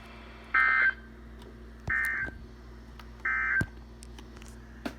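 Three loud, evenly spaced electronic alert tone bursts from a NOAA Weather Radio Emergency Alert System test broadcast in Central Kentucky, each about a third of a second long, sounding alone over a low steady hum.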